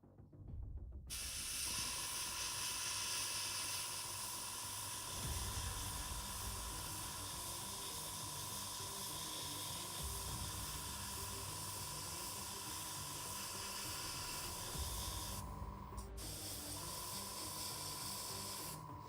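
Yellow paint hisses from an airbrush as hazard stripes on a Necromunda Van Saar miniature get their coat, a steady close spray running almost unbroken, with a short break near the end.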